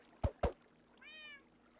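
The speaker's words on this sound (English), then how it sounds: "Getting the cat up here?" A Minecraft cat gives a single short, faint meow, preceded by two sharp taps close together.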